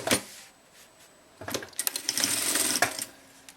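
A sewing machine stitching fabric for a nail-polish case, starting with a short whir, a brief pause, then a longer burst of fast mechanical clatter and rattling before stopping, no talking.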